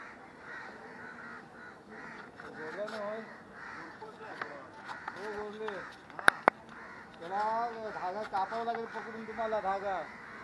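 A crow caught in kite string in a tree caws several times in harsh, repeated bursts, mixed with other bird calls and people talking in the background.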